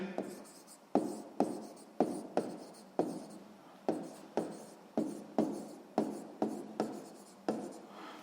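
A math formula is written out by hand in a run of short, regular scratching strokes, about a dozen crisp strokes with brief pauses between them. Close and fairly quiet.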